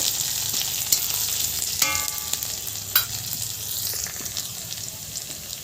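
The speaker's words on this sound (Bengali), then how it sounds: "এবারে দিয়ে দিলাম পেঁয়াজ কুচি লাল লাল করে ভেজে নেব" Chopped onion sizzles in hot oil with panch phoron five-spice, cooked for a fish-head and banana-flower chorchori, with a steady close crackle and occasional stirring clicks and no talking.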